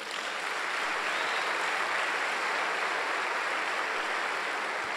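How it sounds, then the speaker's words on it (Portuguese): A congregation at a Sunday church service claps together, a steady, even roar of applause sustained throughout without a break and with no talking over it. "Dá um aplauso ao Senhor."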